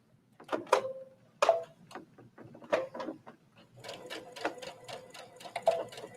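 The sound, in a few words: sewing machine sewing a seam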